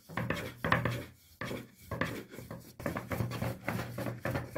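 Yufka dough is rolled out with a rolling pin on a floured counter for layered katmer börek, giving close, rhythmic wooden rubbing and thumping strokes in short bursts with brief pauses between them.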